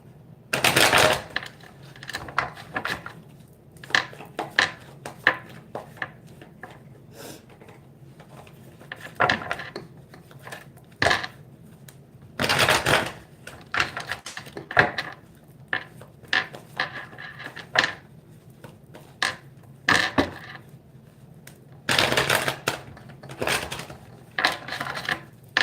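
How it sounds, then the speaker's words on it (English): Tarot cards shuffled by hand make irregular bursts of crisp riffling and slapping, clustered in quick groups with short pauses between them, close and fairly loud. "I kind of want to shuffle some cards on that"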